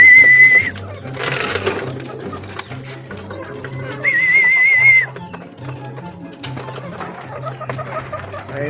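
Racing pigeons coo in a loft near a trapdoor with low repeated throaty calls close by, joined by a couple of sustained high whistling tones and scattered clattering noises.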